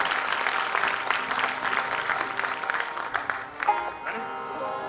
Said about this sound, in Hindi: सबसे पहले बहुत सारी तालियां हमारे मेहमानों के लिए।